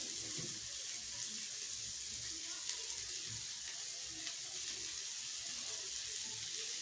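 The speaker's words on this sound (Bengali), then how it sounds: "এই যে একটু জল দিয়ে নিয়েছি একটু" Water is added to a pan of spiced gravy during home cooking, a faint, steady wash of pouring and sizzling under quiet room noise.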